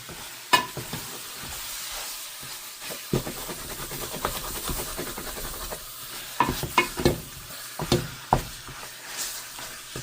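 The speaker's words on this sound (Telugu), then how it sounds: "ఓకే, మసాలా వేగింది, వేసేద్దాం చికెన్ లెగ్గులు." Chicken legs fry in spiced masala for a homemade extra-spicy chicken curry, a steady loud sizzle with sharp scraping clanks of stirring at irregular intervals, close and without speech.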